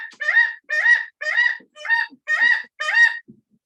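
Nikon, an education eagle at an eagle aviary, gives six loud, close, evenly spaced wailing calls, each about half a second long, with no talk over them.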